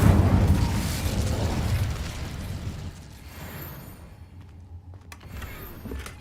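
An Incendio fire spell cast in Hogwarts Legacy opens with a loud fiery burst and rumble that slowly fades into a quieter game ambience, with a couple of faint clicks toward the end.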